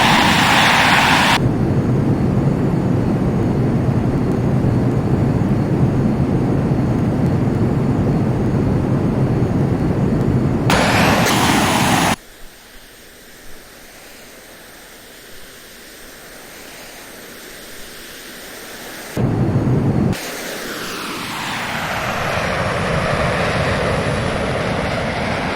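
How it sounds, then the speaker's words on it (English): An F-22 jet flies at supersonic speed in the Prepar3D flight simulator game. A steady loud roar is broken by abrupt cuts to a quieter, duller engine hum before it swells back. "So we are in a F-22 now."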